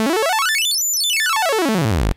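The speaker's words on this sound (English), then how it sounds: "we should hear this sweeping through a chord" A VCO synthesizer voice sweeps rapidly up through the steps of a quantized chord and back down again, a bright, sparkly staircase of stepped pitches played alone and loud over about two seconds.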